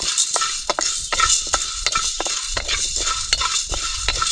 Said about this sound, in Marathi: आता हे टाकू आपण काळ मिर ते पण गरम करायचं